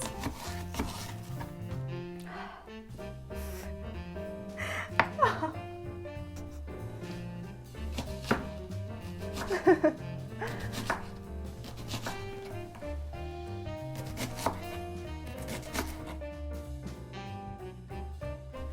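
A knife chops onion on a board in a series of close, crisp taps at irregular intervals, some in quick bursts, beneath soft background music.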